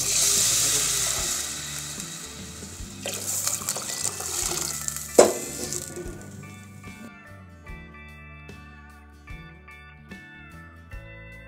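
Water splashes and gurgles as it is poured into a pot of tempered rice for venpongal, a rushing pour for several seconds, then sizzling and bubbling settle in.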